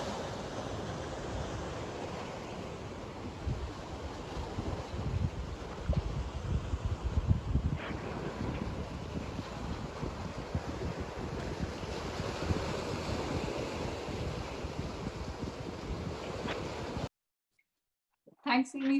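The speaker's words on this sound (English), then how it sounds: "We could hear crashing waves in your white sandy beaches." Surf washing onto a white sandy beach in the Maldives, a steady, dense roar of breaking waves with wind noise on the microphone, continuous and fairly loud for most of the span before cutting off abruptly near the end.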